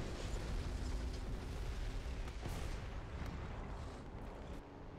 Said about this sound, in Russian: Взрыв БК.